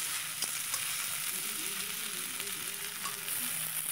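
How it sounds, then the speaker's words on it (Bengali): Prawns frying in hot oil in a pan give a steady, close sizzle that holds evenly throughout, with faint crackles and no talking. "চিংড়িটা একটু ভালো করে ভেজে নেব, যাতে সুন্দর একটা ঘ্রাণ আসে।"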